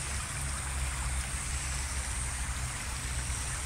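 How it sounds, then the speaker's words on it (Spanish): Surco river flowing through its canal in an urban setting, a steady close broadband rush of water that stays constant throughout with no talking. "este es el río Surco"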